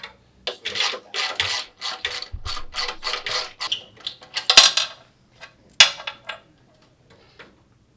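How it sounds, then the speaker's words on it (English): A ratcheting wrench turning a bolt on a rack, giving rapid close clicking bursts in quick repeated strokes, then a few louder metallic clanks and scattered clicks before falling quiet. "use a wrench or a ratcheting wrench to get inside of this bolt"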